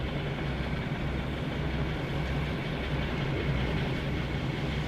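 A train runs in Train Sim World 5, giving a steady low rumble and engine drone that holds evenly for about five seconds with no talk over it.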